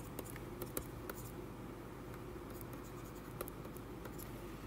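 Pen or marker writing out an equation on a board in a geometry lesson, a steady soft scratching with light taps throughout, close and quiet, with no talking.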